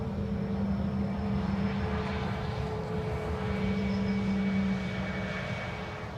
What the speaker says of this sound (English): next up is going to be a Transavia A321 Neo arriving from KAO